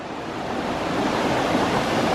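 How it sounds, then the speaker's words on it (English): A waterfall on the road to Bovilla Lake in Albania pours under a bridge, giving a loud, steady rushing roar with no voices. "there is an incredible looking waterfall"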